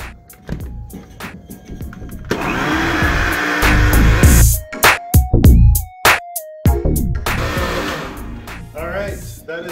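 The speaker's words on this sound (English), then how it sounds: "We just blend that up, and here we go." A blender whirs loudly, mixing vegan banana bread batter made with almond milk and coconut oil. The motor surges and drops in pitch over several seconds of steady, close running.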